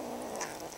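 A kitten holding an artichoke leaf gives a short, soft, continuous purr up close, with no voices over it.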